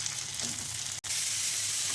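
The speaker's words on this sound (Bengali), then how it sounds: "আলুগুলো খুব সুন্দর করে আগে ফ্রাই করে নেব" Steady, close sizzling of potatoes frying in hot oil, a continuous crackling hiss with one brief dropout midway.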